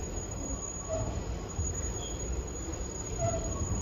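An R62 subway car on the 6 line rumbles through a tunnel past the abandoned City Hall loop, with a steady low roar and brief high wheel squeals near the start and end, no talk.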